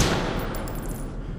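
A single gunshot in the horror video game CHUXIE, a loud booming blast with a decaying low rumble and tail, heard alone.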